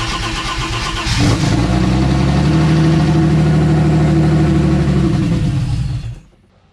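A turbocharged BMW M52 inline-six in an E30 cranks briefly, catches and settles into a loud, steady idle close by, then cuts off abruptly near the end.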